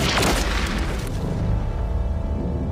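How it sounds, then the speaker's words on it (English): A deep booming blast of battleship gunfire opens the clip, then its low rumble rolls on and slowly fades. "Explosions tear through the sky as a merchantman is hit and starts going down."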